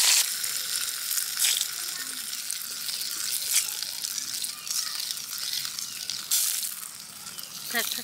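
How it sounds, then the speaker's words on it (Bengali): Pieces of river chital fish fry in a pan with a loud, continuous sizzle and crackle close by, and people talk over the cooking. "আলাদা আলাদা করে ভেজে নিচ্ছ?"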